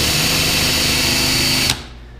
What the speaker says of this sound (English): I got a new end here. It goes on a drill.